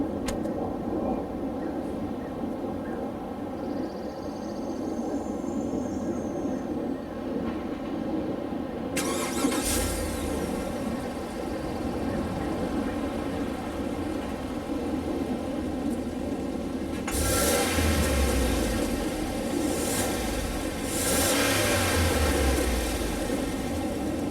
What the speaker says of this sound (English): let's fire it up and see how it sounds